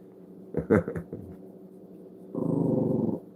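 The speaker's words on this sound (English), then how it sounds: "you just see my reflection in the mirror and you're growling" A dog reacting to its own reflection in a mirror gives a short burst of low rumbling vocal sounds, then after a pause a longer, steady pulsing growl up close.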